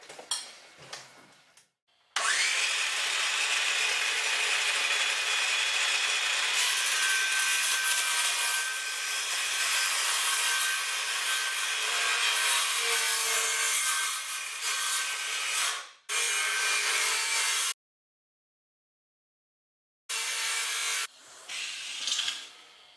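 Hand-sawing plywood held down by the weight of a sphere-making machine, a long continuous rasping stroke pattern close by, stopping briefly twice, with no talking.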